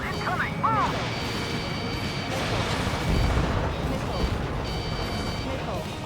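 In a plane combat video game, a missile launches and bursts with a deep booming blast, heavy rumbling noise through the middle of the stretch amid steady engine drone and faint radio chatter.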